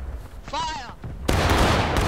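A Civil War-era infantry volley in the game War of Rights: a voice shouts a command, then a dense crash of many rifles firing together, loud and sustained with rolling noise after the shout.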